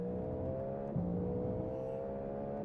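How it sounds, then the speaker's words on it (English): A GTP or GT4 race car in a racing video game pulls out of the pit lane with a steady droning engine note that climbs slightly in pitch, one continuous sound with no talking. "There's a car leaving the pit lane."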